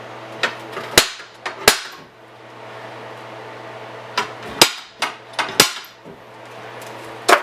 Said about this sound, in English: Can hit that with center punch